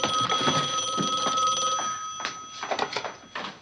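A telephone bell ringing in a room, a bright metallic trill in repeated bursts, fairly clear with a few clattering noises near the end.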